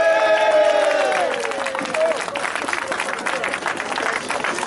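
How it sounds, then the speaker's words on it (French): A crowd at an outdoor political rally in Nice's Place Masséna breaks into broad, sustained applause and cheering, starting while a voice still speaks over a loudspeaker and then carrying on alone as a dense wash of clapping. "alors applaudissez-vous!"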